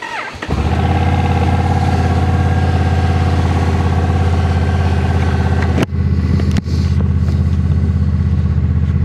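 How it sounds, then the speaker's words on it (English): A motorcycle engine warming up, a loud, steady idle that starts abruptly and runs on continuously, close by, broken by two brief sharp dips in the middle. "let's get the bike warmed up"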